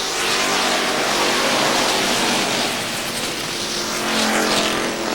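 Street stock race cars roar around a track at a 1997 event, producing a loud, continuous dense engine drone with surging passes and no voices heard.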